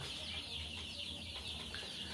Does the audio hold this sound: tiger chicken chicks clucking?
yes